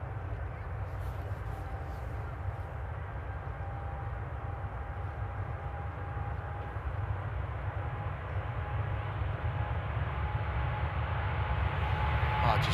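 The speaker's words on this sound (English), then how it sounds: "And a DT Delta A330 coming this way as well." A Delta Airbus A330 taking off at Amsterdam airport, heard as a steady, distant jet roar that slowly swells louder over several seconds.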